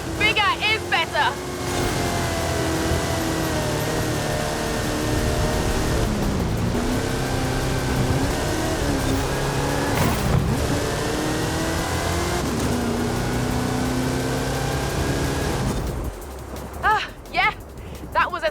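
Big trucks with throaty engines revving and roaring through a Hot Wheels track finale in Forza Horizon 5, a loud sustained drone with rising and falling pitch, plus faint game voice or chatter near the end.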